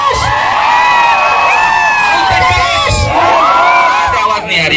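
A large crowd at a college farewell event cheers, whoops and shouts loudly and continuously, many excited voices overlapping in a close, energetic roar.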